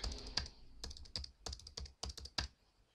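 Close-up typing on a computer keyboard, with a quick, uneven run of crisp key clicks in short clusters and no voice over it.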